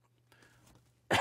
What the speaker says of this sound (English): Oh, I got a tickly cough.